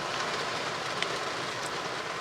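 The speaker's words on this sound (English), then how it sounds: "The rain." Steady rain falls outside during a drive, a broad even hiss with no breaks and no voices.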